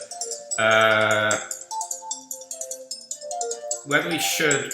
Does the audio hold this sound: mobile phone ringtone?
yes